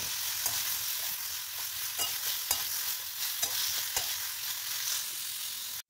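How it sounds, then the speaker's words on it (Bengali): Potatoes and cauliflower sizzle in a pan while a spatula scrapes and stirs them in repeated clacks, the frying hiss steady throughout before stopping abruptly. "দিয়ে ওই আলু দিয়ে ফুলকপি দিয়ে একটু ভাজা ভাজা মতো করব"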